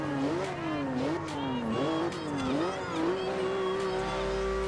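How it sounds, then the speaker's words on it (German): Car engine in Forza Horizon 2 revving during a night test drive, pitch rising and falling in repeated surges before holding a high steady whine near 8000 rpm, close and loud, with someone talking at times. "So, wir drehen bis ja, fast 8000 Umdrehungen."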